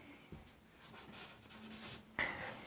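Pen or marker scratching across a surface during an English grammar lesson, a short run of soft strokes and scrapes ending in a brief sharper squeak, close and quiet, with no talking.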